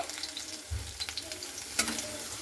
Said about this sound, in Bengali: আমার আলুটা খুব ভালো করে কিন্তু ভাজা হয়ে গেছে